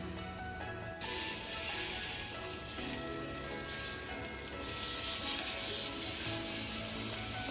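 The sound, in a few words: sausage browning in a pan for queso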